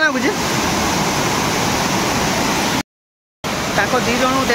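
Water pours loudly and steadily at the 16 Bhauni waterfall, a close, dense rush. The sound cuts out completely for about half a second, then resumes at the same strength.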